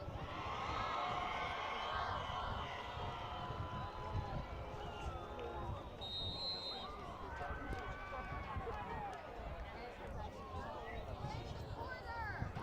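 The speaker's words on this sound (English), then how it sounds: "Let's hear it for that Charter Oak cheer squad." Charter Oak cheer squad cheering at a high school football game, a steady stadium crowd with overlapping shouts and calls continuing throughout, voices and crowd babble mixed in.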